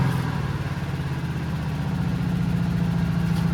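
A damaged engine with soap inside runs at about ten percent throttle, a steady low, throbbing idle-like drone with a constant rhythmic pulse and no talking.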